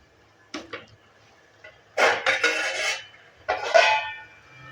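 A spoon stirs and scrapes aloo soyabean curry with kasuri methi in a pan. There are a few short clattering strokes, then two longer bursts of close metallic scraping, with quiet pauses between.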